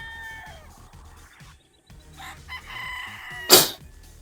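A sweater bloodline gamefowl rooster crows once at the start, nearby and fairly loud, followed by quieter farm sounds and a sharp burst of noise.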